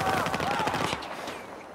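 Rapid automatic gunfire in the Battlefield video game rattles in a dense burst for about a second, then fades into a quieter echoing tail.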